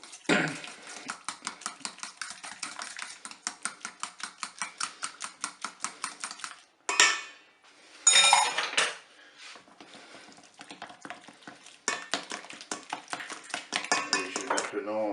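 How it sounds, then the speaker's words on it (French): A spoon beats crab flan mixture with tomato paste in a Cookeo pot, making rapid rhythmic scraping strokes against the metal in several bursts separated by short pauses and a couple of louder clanks. "Je mélange à nouveau."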